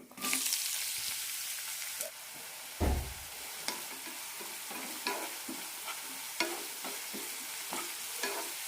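Chopped onions sautéing in coconut oil with cumin seeds, a steady bright sizzle broken by repeated scraping stirs of a spatula against the pan, close and without talk.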